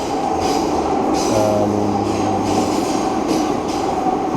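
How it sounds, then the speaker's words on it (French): Paris metro train riding at night, a loud, steady interior rumble and roar with a brief tonal squeal partway through and no speech. "je suis dans le train, dans le métro"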